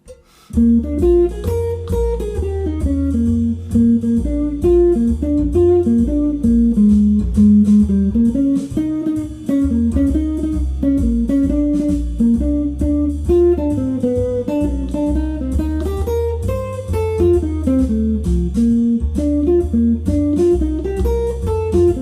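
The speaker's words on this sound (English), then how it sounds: "play solo with the chord tones through the 12-bar blues" A clean jazz guitar plays a steady flowing solo of chord-tone arpeggios through a 12-bar blues over a bass line, loud and close, continuous throughout with no talking.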